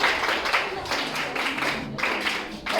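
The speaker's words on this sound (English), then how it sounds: "Can we clap for her?" A school audience claps for a student, a dense, steady wash of many hands lasting throughout at moderate loudness, with no talk over it.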